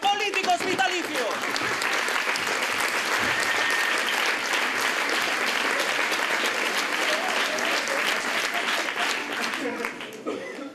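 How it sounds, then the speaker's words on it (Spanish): Sustained audience applause in a theatre during a satirical village stage show, with steady dense clapping that fills the hall and tapers off slightly near the end. "Fuerte el aplauso para nuestros políticos vitalicios"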